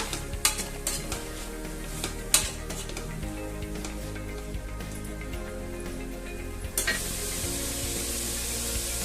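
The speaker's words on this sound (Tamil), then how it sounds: "இதில் நீங்கள் பட்டாணி அப்புறம் உருளைக்கிழங்கு இதையும் நல்லா சேர்த்து வதக்கி விட்டுக்கோங்க." Peas and potatoes being sautéed in a pan for vegetable pulao, with a steady soft sizzle and occasional scraping stirs of a spoon against the pan, close and alone with no talk.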